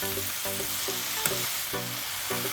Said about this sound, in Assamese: আৰু এইখিনি মই এতিয়া খুব ভালদৰে ভাজি ল'ম।